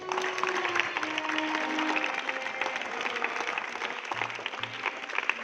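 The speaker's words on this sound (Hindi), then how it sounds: "ताली बजाओ इसके लिए।" Steady audience clapping for a child at a spiritual talk gathering, a crowded wash of hands with faint tonal hum and scattered murmurs underneath.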